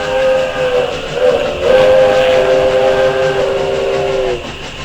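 A steam train whistle blows loud and sustained for several seconds over a rumbling rail background, its pitch bending slightly before it cuts off near the end, with no talking.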